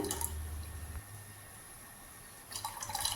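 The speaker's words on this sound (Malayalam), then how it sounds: "അതിലേക്ക് നമ്മൾ എടുത്തിട്ടുള്ള രണ്ട് കപ്പ് തേങ്ങാപ്പാൽ ഒഴിച്ചു കൊടുക്കുകയാണ്" Coconut milk poured into a pan on the stove for a Thai banana dessert, a soft liquid pouring and trickling sound that starts, pauses briefly for about a second and a half, then resumes.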